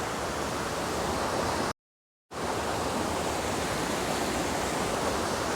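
Water tumbles down Abbi Falls near Sakleshpur in a loud, constant rushing roar, cut by a brief silent gap before the torrent resumes unchanged.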